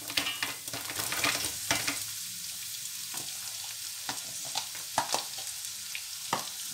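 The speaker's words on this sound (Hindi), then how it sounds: "अब प्याज को भूने" Onions fry with potatoes and bell pepper (shimla mirch) in a pan, a soft, steady sizzle with intermittent scraping and stirring clicks from a spoon, fairly quiet and close.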